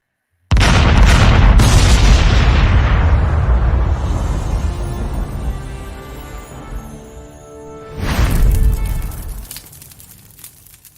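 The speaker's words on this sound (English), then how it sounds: "we're going to fire dem cannons" Cannons fire at the start of a Buccaneers vs. Titans football game: one loud, close boom with a long rumbling decay, then a second, softer blast a few seconds later.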